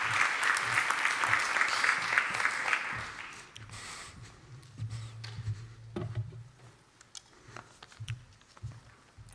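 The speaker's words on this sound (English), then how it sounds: "please give a round of applause to Michael from Deceit AI" Audience applause at a startup accelerator showcase fills the opening seconds, a dense clapping crowd that thins after about four seconds into scattered claps, footsteps and low room noise.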